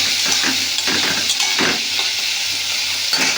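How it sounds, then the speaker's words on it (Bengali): Mixed fried rice being stirred in a frying pan, a loud hissing sizzle broken by repeated scraping and clinking of a utensil against the pan, close up and without talk. "দেখো, এটা আমি মিশিয়ে নেবো, এবার মিশিয়ে নিলেই হয়ে যাবে।"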